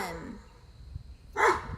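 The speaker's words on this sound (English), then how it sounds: "Sorry, the neighbor's dog is barking." A neighbor's dog gives a single short bark near the end, heard from some distance over quiet indoor room tone, after a brief voice fragment at the start.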